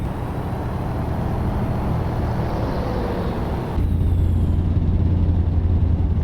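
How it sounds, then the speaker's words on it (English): Steady rumble of cars and trucks on a highway in American Truck Simulator, a dense engine and road drone that grows louder partway through as a deep low hum joins in, with no talking. "car sounds, eh?"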